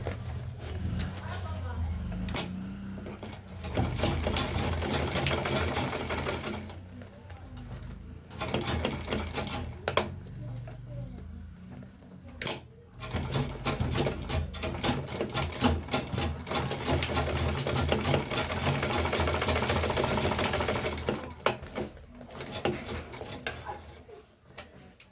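Sewing machine stitching a tote bag strap along a marked line, running in bursts of rapid mechanical clatter with short pauses between, close by, while someone talks over parts of it.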